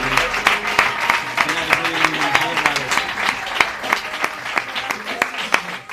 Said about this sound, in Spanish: Den un fuerte aplauso para el Señor.